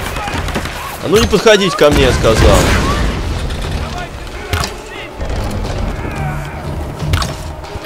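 Explosions in the 2013 Tomb Raider video game, a loud booming blast with crackling debris near the start followed by lingering rumble, while someone speaks over the action.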